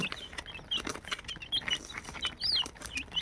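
Country chickens cluck and chirp close by while pecking at chopped onions, with irregular short calls over light background noise.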